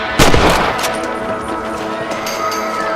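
A rifle gunshot rings out in the Wild West game Red Dead Redemption, one loud close crack with a rolling tail, followed by quieter ambience and a few faint later pops.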